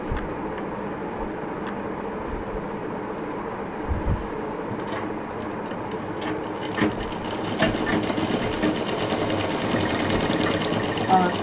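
A sewing machine stitches the side of a homemade cloth fruit cover, running in a fast, continuous buzz that grows a little louder toward the end, close by and mostly alone.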